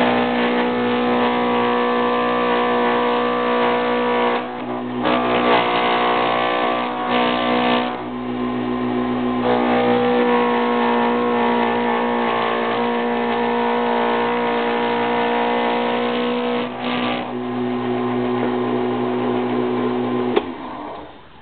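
A wood lathe spins a pen blank while a tool works down its square corners toward round, a steady whirring hum with a continuous scraping, chattering cut and a few brief dips where the tool lifts off.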